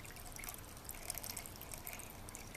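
Coolant poured into a car's cooling system during a radiator flush, a soft continuous trickling and splashing of liquid, faint and steady throughout with no speech.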